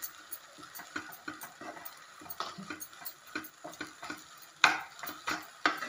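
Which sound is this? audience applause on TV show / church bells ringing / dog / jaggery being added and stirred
jaggery being added and stirred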